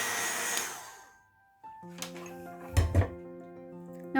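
A hair dryer or heat tool blows steadily close by, drying ink-blended cardstock for a handmade card, then cuts off, followed by a few thumps and clatters on the craft table.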